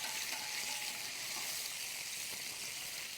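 A ribeye steak sizzling on a grill with a loud, steady hiss and crackle, close up and constant, with no voices.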